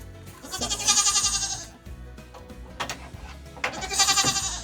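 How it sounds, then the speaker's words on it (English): A seven-month-old goat bleats twice, near and loud, with a pause of rustling and shuffling between the two calls. "She's a friendly little goat."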